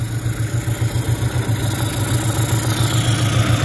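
A 1995 Mercury 8hp long-shaft two-stroke outboard runs steadily at close range, a loud, fast, buzzing putter with an even pulsing beat and no voices.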